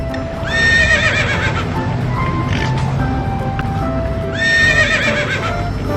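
A year-and-a-half-old delman carriage horse at a family tourist spot lets out two loud, shrill whinnies several seconds apart. Hooves clop beneath them over constant busy background noise.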